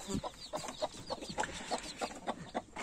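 An Indian turkey hen with four young chicks gives a steady run of soft, rhythmic clucks, about three per second, close by with faint chick peeps.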